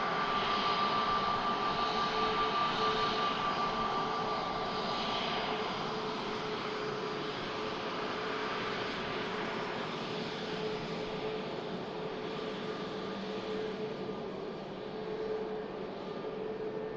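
An EasyJet airliner rolls along a rapid exit taxiway at Manchester Airport, its jet engines giving a steady, faint whine and hum that fades slightly as it goes.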